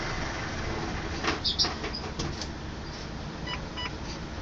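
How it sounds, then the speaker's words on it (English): Short electronic truck cab warning beeps chime as the ignition key is turned on, over a steady idling engine hum, a few quick tones clustered in the middle followed by fainter repeats. "I'm going to go ahead and turn my key to the on position. Okay, I'm going to let it beep."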